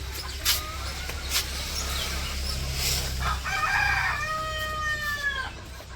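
Village-yard chickens cluck and call near a low rumbling background, with a rooster's drawn-out crow rising toward the end; no one speaks.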